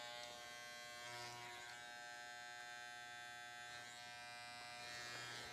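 Electric hair trimmer buzzing steadily and close up as it lines off a sideburn on curly hair during a high fade haircut, its tone wavering slightly as the blade moves across the skin.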